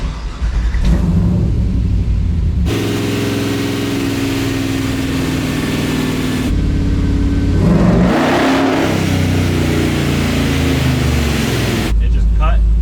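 A supercharged LS3 V8 in a Chevy C10 stepside truck pulls hard on a dyno in fourth gear, a loud sustained wide-open rev climbing steadily in pitch, broken by brief gear-change lulls and a final drop-off.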